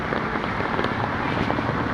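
Heavy rain pours during a typhoon in General Santos City, Philippines, a dense, steady roar of broadband noise with wind buffeting the microphone, no voices.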